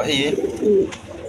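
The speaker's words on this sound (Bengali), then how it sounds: "খুব সুন্দর কবুতর" A pair of glossy black beauty pigeons coo close by, two short rolling rumbles one after another, with a voice briefly heard nearby.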